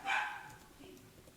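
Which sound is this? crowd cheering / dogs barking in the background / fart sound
dogs barking in the background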